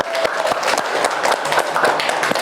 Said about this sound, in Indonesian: tepuk tangan lagi semuanya